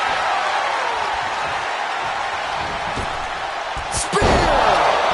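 Wrestler's spear tackle in the WWE 2K24 wrestling game, during an ambulance match, landing as a sharp, loud slam near the end over steady arena crowd noise, with a commentator talking throughout.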